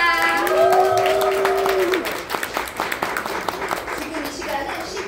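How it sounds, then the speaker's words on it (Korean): An audience claps and cheers at the start of a December leaders' meeting in Bundang. A voice speaks first, then a burst of dense, close applause follows and tapers off over the last few seconds. "큰 박수와 함성으로 시작하겠습니다"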